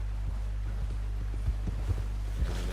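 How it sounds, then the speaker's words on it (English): Horse hooves in the video game Red Dead Redemption 2 clip-clopping at a slow walking pace over a low steady hum, a few soft irregular steps, fairly close. "Get that horse in line, Arthur."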